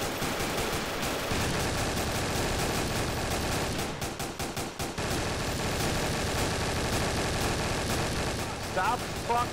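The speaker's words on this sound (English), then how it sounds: "Stop fucking shooting me." Rapid gunfire in Counter-Strike: Source crackles in dense bursts and sharp single shots throughout, loud and close, with a short flurry of evenly spaced reports near the middle.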